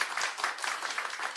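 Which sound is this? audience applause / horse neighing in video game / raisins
audience applause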